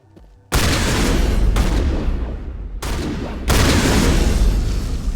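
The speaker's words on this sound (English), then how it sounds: "my shotgun's just better. And not just because it shoots radioactive rounds" A shotgun firing radioactive rounds in the Mass Effect video game, with three or four heavy booming blasts in quick succession that each leave a dense, sustained roar, loud and close.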